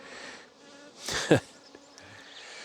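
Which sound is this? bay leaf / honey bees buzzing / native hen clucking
honey bees buzzing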